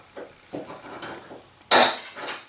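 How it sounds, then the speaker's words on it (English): A hammer strikes a center punch to dent a rivet head: several light taps, then one sharp, loud metallic hit and a smaller tap after it, close by. "you find the center of the manufacturer's head and you put a dent in there with your punch"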